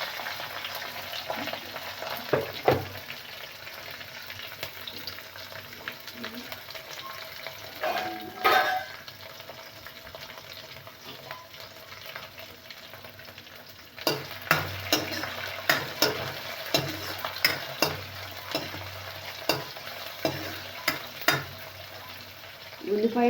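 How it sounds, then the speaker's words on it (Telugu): Curry leaves, chopped onion and green chilli pieces frying in hot oil in a pan, a steady close sizzle with scattered crackles and a few stirring scrapes, louder bursts in the second half. "కరివేపాకు, కట్ చేసుకున్న ఉల్లిపాయ, పచ్చిమిర్చి ముక్కలు వేసుకోవాలి"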